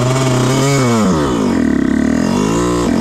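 A Yamaha YZ125 two-stroke dirt bike engine labors in first gear while stuck on a hill, close and loud, its buzzing pitch rising and dipping as the throttle is worked.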